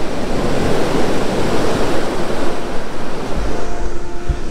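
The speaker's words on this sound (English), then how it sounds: "there's some really nice waves. The waves are coming in" Sea waves roll in on Cleveleys Beach, a loud, continuous rushing surf with rhythmic swells and some wind buffeting, and no voices.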